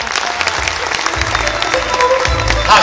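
An audience at a ceremony honouring veteran sports figures in Tabriz, Iran, claps in a dense, sustained burst of applause, loud and fairly close, with voices faintly underneath.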